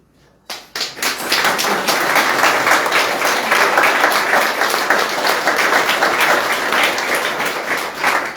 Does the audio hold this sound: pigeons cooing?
no